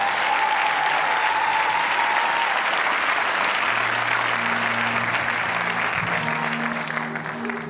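A church congregation cheers and applauds continuously with dense, loud clapping. An organ or keyboard chord sustains underneath.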